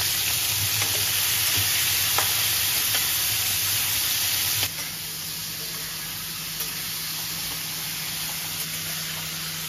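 Shrimp frying in very hot oil for a Bengali kochu pata chingri dish, a dense, steady sizzle that runs the whole time, slightly louder in the first half and then easing a little, with occasional stirring clicks.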